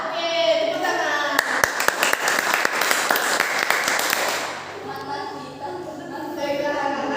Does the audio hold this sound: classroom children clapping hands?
yes